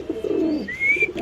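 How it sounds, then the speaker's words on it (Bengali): A male grizzle Damascene pigeon gives a single short, close coo: a low throaty rumble that rises into a brief higher note. "দর্শক দেখেন নরের ডাক পুরো কাজল চোখের কবুতর"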